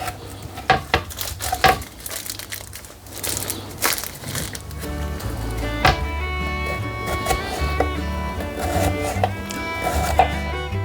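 A knife slices a cucumber for sandwiches, with a quick run of crisp, close tapping cuts in the first few seconds, then a steadier, busier background with a faint tonal hum.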